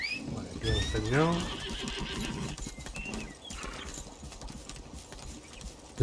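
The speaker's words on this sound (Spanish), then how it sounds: "Se va a caballo." A horse in the video game Lost Ark whinnies with a rising-and-falling neigh, then its hooves clip-clop steadily at a gallop, with background game sounds and someone talking over it.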